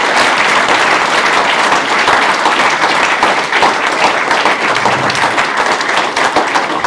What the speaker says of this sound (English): I'd love a round of applause to the panel